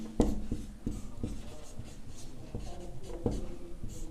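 Pen writing on paper while working a class 9 maths problem, close scratchy strokes with small taps as the tip lifts and lands, steady and moderately loud, no talking.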